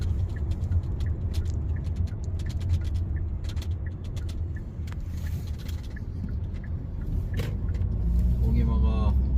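Car cabin road noise while driving on a road in South Korea, a steady low rumble throughout, with people talking over it.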